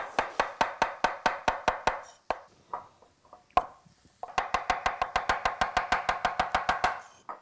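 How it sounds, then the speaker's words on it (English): Cremini mushrooms being thin-sliced with a knife on a board: a quick, even run of close, crisp chops, a short pause with small handling noises, then another long rhythmic run of slices. "I'm taking some cremini mushrooms and I'm just going to thin slice them"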